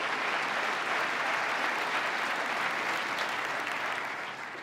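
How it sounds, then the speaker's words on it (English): A large audience in a formal hall applauds for a state address, a steady dense wash of clapping that holds for several seconds and tapers slightly at the end, with no talk over it. "Let's give them a round of applause."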